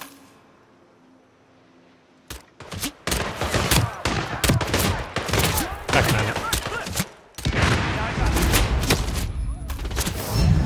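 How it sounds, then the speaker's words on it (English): Gunfire in the video game Hitman Freelancer: after about two quiet seconds, loud rapid shots erupt in dense, near-continuous volleys, briefly pausing before resuming just as intensely. "So let's instead just shoot people."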